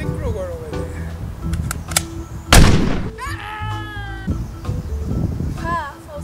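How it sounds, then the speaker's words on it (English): A toy gun from a Lara Croft costume fires once with a sharp, noisy burst in the middle, surrounded by people talking and a high-pitched voice. "Just shoot Freddy Krueger over there."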